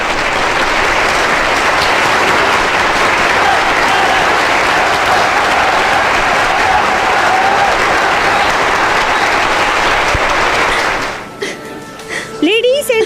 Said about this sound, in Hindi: कैसे तालियां बजा रहे हैं सब।